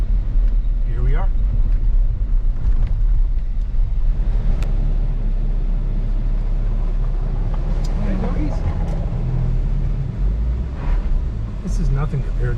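A car drives the winding Road to Hana, its steady low engine and road rumble running continuously up close while people talk inside the cabin over it.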